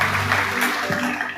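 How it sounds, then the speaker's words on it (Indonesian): Church congregation breaking into lively applause during worship, a continuous crowd clapping sound with faint voices mixed in beneath it. "Berikan tepuk tangan yang meriah buat Tuhan Yesus."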